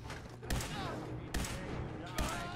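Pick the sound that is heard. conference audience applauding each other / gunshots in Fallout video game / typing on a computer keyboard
gunshots in Fallout video game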